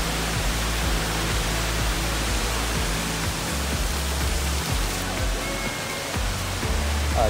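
Waterfall spray drenching a trail at Watkins Glen State Park makes a steady, loud, broad rushing hiss throughout, with no talk over it.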